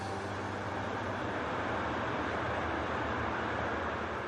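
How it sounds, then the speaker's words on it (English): Underground subway train running inside a city, a steady, loud, dense rumble with a rail roar that holds evenly throughout, no talk. "there are trains that travel underground"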